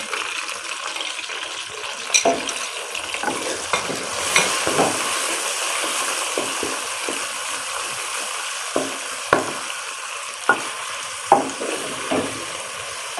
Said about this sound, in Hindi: अच्छा से इसको फ्राई करेंगे